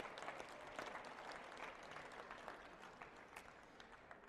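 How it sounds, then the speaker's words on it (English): A crowd applauds the sponsors at a country music awards show, a steady, dense wash of clapping that holds evenly throughout without any voices standing out. "Could we have a round of applause for our sponsors, please?"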